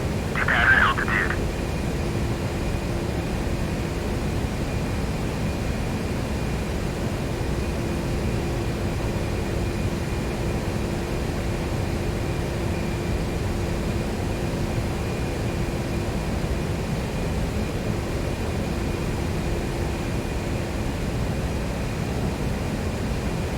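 An A-10C attack jet in the DCS World flight simulator holds a steady, loud engine drone from start to finish, with a faint tonal whine and a brief brighter blip near the beginning.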